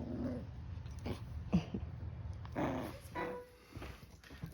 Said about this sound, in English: my wife also picked up a cute little puppy